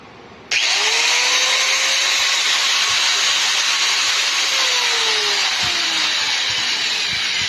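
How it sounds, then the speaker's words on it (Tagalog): An angle grinder powered from a home solar setup starts abruptly and runs at a constant high whine, close and loud, with slight pitch dips as it keeps spinning. "So meron tayong nakapang dito na grinder. Test lang natin"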